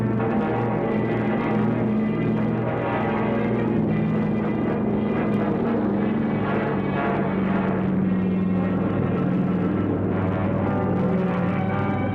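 Propeller engines of Army B-17 bombers drone steadily and loudly throughout, a dense continuous multi-engine roar with no talk.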